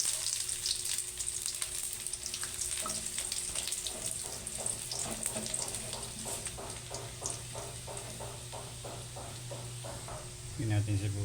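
Onions sauté in a pan during cooking of crab and shrimp in coconut milk, with a steady close sizzle and rhythmic stirring scrapes under it.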